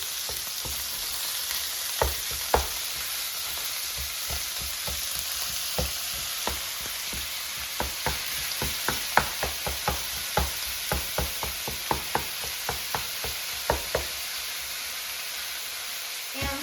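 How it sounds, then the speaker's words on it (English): Ground turkey sizzling in a hot pan, a steady close frying hiss broken by frequent sharp scrapes and taps of a spatula stirring and breaking up the meat, no talk. "Cook the ground turkey, stirring and breaking it up every minute until it's fully cooked and no longer pink."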